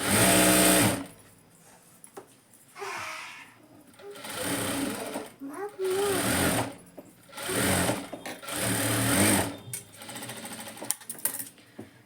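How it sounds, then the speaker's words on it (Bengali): A sewing machine double-stitches the side seams of straight palazzo pants in several loud close bursts of rapid whirring, separated by short quiet pauses. "এই সাইডগুলোতে ডাবল সেলাই দিয়ে নেবেন"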